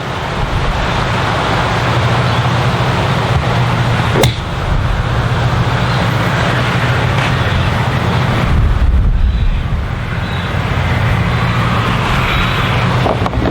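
Strong wind buffets the microphone outdoors with a continuous roaring rumble, a brief sharp knock near the four-second mark, and no speech.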